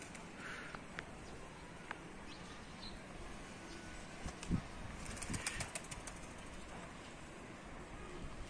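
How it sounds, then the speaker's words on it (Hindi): Pigeons taking off and flying, with soft intermittent wing flaps and a few louder bursts of flapping around the middle, heard fairly faint against a quiet outdoor background, no talk. "आज कबूतर उड़ गए, खुद ही उड़ गए, लेकिन माशाल्लाह से बहुत अच्छी तरह उड़ रहे हैं।"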